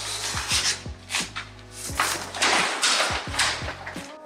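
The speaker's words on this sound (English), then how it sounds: "We're gonna cut the excess of the lining." Excess vinyl lining is cut and worked by hand, giving repeated rubbing, scraping strokes with soft knocks in an uneven rhythm, close and fairly loud, with no talk.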